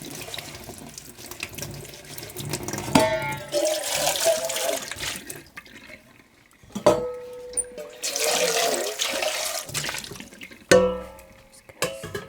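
Naturally dyed material gets a quick rinse under a running tap in a sink, with water gushing in several bursts separated by short pauses, splashing loudly and close by.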